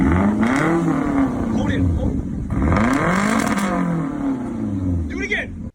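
A car fitted with a crude, badly modified exhaust revs up and down repeatedly, a loud, close, buzzing drone that swells and dips in steady waves.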